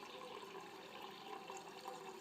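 Water pouring from the dispenser of a Samsung fridge on its new water supply line, a steady, soft, continuous flow at close range, with no voices.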